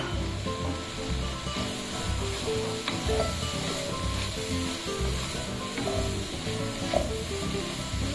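Canned mushrooms stir-fried in a pan for mixed fried rice give a steady dense sizzle with faint occasional spatula touches, close and continuous.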